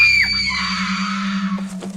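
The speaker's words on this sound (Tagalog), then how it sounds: "Pareho kaming nagulantang nang bigla na lang sumigaw si Abby" A woman screams in a Tagalog horror story: a sustained, piercing shriek that sweeps and wavers over a steady low hum, loud and close with no talk over it.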